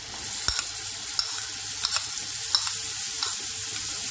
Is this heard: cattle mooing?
no